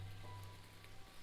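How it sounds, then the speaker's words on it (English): Cold drizzle falls as a faint, steady hiss of fine rain on surfaces, soft and continuous with no voices. "A cold drizzle begins to fall."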